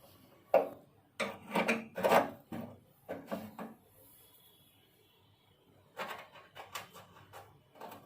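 Screws being tightened on a gas stove burner, with short, rough scraping and grinding bursts in two clusters separated by a quiet pause, close and moderately soft, without speech.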